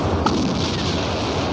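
Heavy gunfire and artillery-like blasts in the video game Call of Courage pound an enemy base, forming a loud, dense, continuous barrage.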